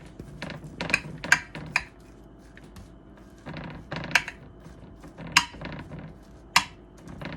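Rice Krispie treats being pressed down and smoothed in a pan, with scattered sharp clinks and scrapes of utensil on metal between softer pressing sounds, close by and without talk.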